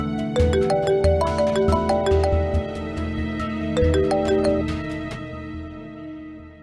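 A phone ringtone plays a bright repeating melody, loud and close, with no voices.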